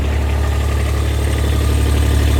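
Kubota X900 utility vehicle engine runs at a steady idle, a loud low rumbling drone with constant vibration and no change in pace, close up and without talk.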